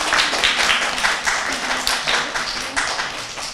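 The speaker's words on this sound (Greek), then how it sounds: "ένα χειροκρότημα στις κυρίες που δώσαν αίμα εδώ" Applause at a school volunteer blood donation day in Rhodes, cheering the women who gave blood: a dense, steady patter of many hands clapping together, loud and close throughout.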